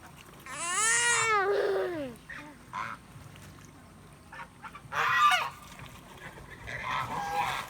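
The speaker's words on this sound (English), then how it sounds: "a bunch of geese and ducks to decide it's bath time" Geese and ducks honk and quack loudly in a burst near the start, then again in short noisy bouts as the birds bathe at a pond in the mountains of Ningbo, China, with quieter gaps between calls.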